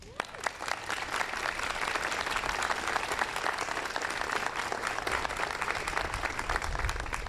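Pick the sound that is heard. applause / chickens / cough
applause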